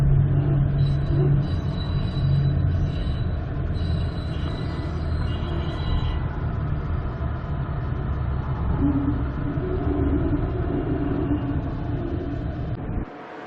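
A passenger train sits at Nambour station on the Brisbane to Longreach line, giving a loud, steady low rumble with a sustained mechanical hum and hiss that persists for the whole stretch before easing at the end.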